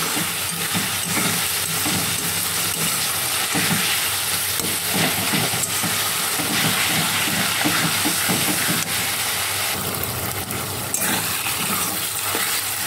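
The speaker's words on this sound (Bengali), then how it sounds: "পেঁয়াজটা ভাজা ভাজা হচ্ছে, এর মধ্যে একটু নুন দিয়ে দিলাম যাতে পেঁয়াজটা নরম হয়ে যায়" Onions frying in oil in a kadai with a pinch of salt, a loud continuous sizzle and crackle with rhythmic stirring scrapes throughout, no talking.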